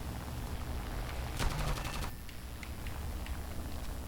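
A Ki-61 fighter's guns rattle off a short burst at a Hurricane in an arcade air-combat game, a loud rapid staccato over steady engine drone, heard without talk.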